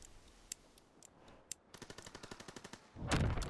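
Gunfire in a first-person shooter game: a few isolated shots, then a rapid burst of evenly spaced automatic rounds, followed by a louder, sustained blast of noise at the end.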